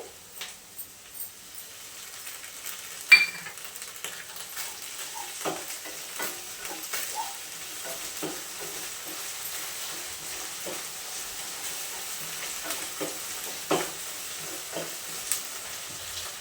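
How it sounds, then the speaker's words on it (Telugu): Browned onions with ginger-garlic paste fry in a pan for Andhra-style crab curry, giving a quiet, steady sizzle with intermittent stirring clicks and scrapes. "అలాగే ఉల్లిపాయలు వేగుతున్నాయి కదా, వేగిపోయేవి బ్రౌన్ కలర్లో వచ్చాయి. ఇప్పుడు అల్లం వెల్లుల్లి పేస్ట్ వేసుకున్నామండి."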